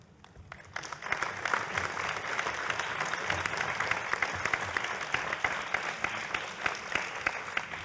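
An audience at a forum on ASEAN at 50 gives the three panelists a warm round of applause, clapping swelling quickly from a soft start into a full, steady crowd ovation that carries on for several seconds.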